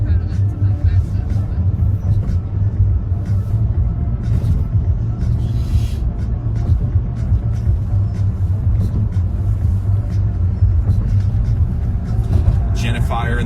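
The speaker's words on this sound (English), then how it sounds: "I love the sound of those bumps on the interstate." Steady car road rumble on an interstate, a continuous low drone of tires over the pavement with no clearly separated bump thumps, while voices chatter over it throughout.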